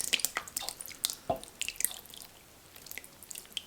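Stewed tomatoes pour from a glass jar in a home kitchen, giving soft, close, wet plops and drips in an uneven patter, mostly quiet with a few sharper splats.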